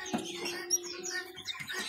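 Kino songbirds call at the Pramuka bird market: a few quick, close chirps and whistles over a steady low hum from the busy market.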